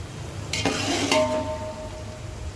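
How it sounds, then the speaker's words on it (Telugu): Onions frying in a mix of oil and ghee for bagara rice, a steady sizzle with a few brief scraping stirs and a clink of metal near the start, no voices. "ఉల్లిపాయ వేయించుకుంటున్నాను. ఆయిల్ నెయ్యి వేసానండి."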